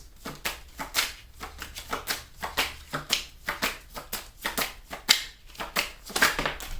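Tarot cards being shuffled and drawn, a rapid run of crisp riffling flicks and slaps close by, with sharper snaps where cards spring loose.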